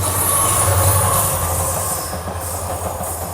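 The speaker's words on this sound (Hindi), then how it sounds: "इसका मतलब ये कि कोई तो ट्रेन जो है वो क्रॉस होने वाली है हमें" Another train passing on a single-line track in India, heard up close from a stopped Duronto express: a loud, steady rumble of wagons and wheels with clickety-clack and some squealing, easing slightly toward the end.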